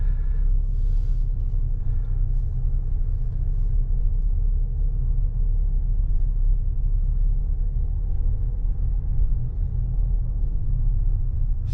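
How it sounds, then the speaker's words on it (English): A car drives slowly through cemetery roads, giving a steady low engine and road rumble that stays loud and unbroken throughout, with no speech. "we'll just drive around here until we figure out where we're at."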